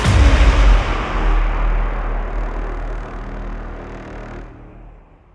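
Sniper gunfire in the action film Extraction: a heavy, booming shot up front with a long rumbling decay trailing off over several seconds, loud and without speech.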